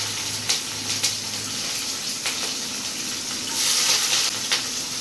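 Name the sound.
onions frying in oil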